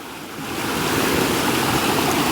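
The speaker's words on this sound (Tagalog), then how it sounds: "sa gitna na to ng agusan ng tubig sa ilog" River water flows through a seasonal riverbed that runs dry in the hot season, giving a steady, close rushing wash that swells in at the start and holds constant with no voices.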